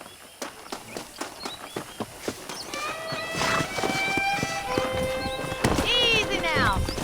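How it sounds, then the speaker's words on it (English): Hooves clip-clop at a walk, then horses neigh and whinny loudly, one long high whinny near the end, among the sounds of a Western game in Red Dead Redemption set on a ranch. "let's see if we can't wrangle some horses."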